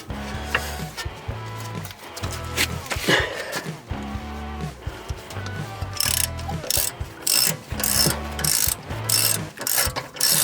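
A ratchet tightening front brake bolts on a 2018 BMW 640d Gran Coupe F14, rapid clicking bursts in repeated strokes with some metallic knocks, close and clear, with occasional faint talk.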